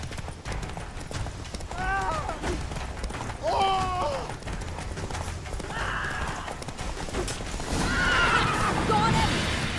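Horse in The Witcher 3: Wild Hunt, several loud neighs and whinnies spread across the clip over steady galloping hoofbeats, with game noise around them.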